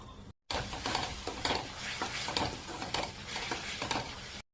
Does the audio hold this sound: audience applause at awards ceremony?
no